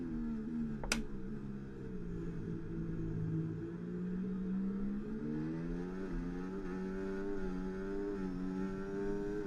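An F1 car engine in the racing game F1 2024 screams at full throttle, a sustained harmonic whine that dips and climbs in pitch through the gears, loud and continuous, with one sharp click near the start.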